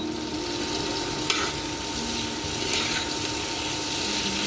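Onion sizzles in a pan with a steady, moderate frying hiss, a faint hum beneath and a couple of light taps, heard close with no talking.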